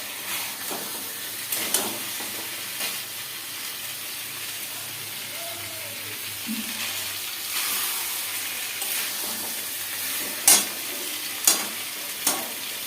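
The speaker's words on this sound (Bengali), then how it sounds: "এখন কষিয়ে নিচ্ছি ডিম আর সয়াবিনটা" Egg and soybean are stir-fried in a pan, giving a steady sizzle under scraping and stirring. Sharp clacks of a utensil against the pan come now and then, with a cluster of louder hits near the end.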